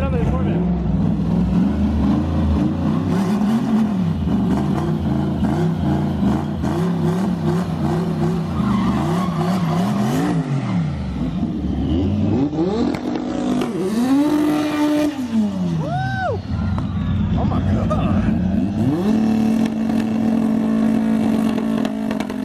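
At the TX2K18 drag event, a Corvette with a 98 mm turbo races a Honda, with loud engines rising and falling in pitch through hard revving and acceleration, under crowd noise and nearby talking.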